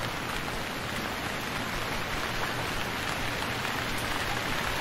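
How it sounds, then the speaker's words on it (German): Steady, dense rainfall in the video game Stranded Deep hisses continuously, an even wash of drops with no voices. "Es regnet."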